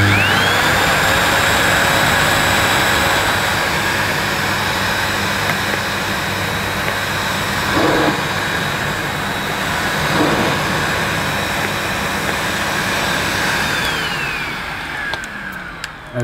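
A faulty Sebo Felix Classic vacuum cleaner runs with its power head attached: a loud, steady motor whine with a high tone holds close for about fourteen seconds, then winds down to a stop.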